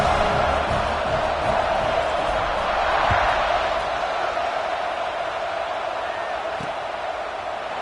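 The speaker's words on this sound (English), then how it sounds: "this crowd is buzzing after that last score" A stadium crowd in a football video game featuring Georgia Tech hums with a continuous broad roar, steady and fairly loud throughout, with a couple of brief thuds and no clear voices standing out.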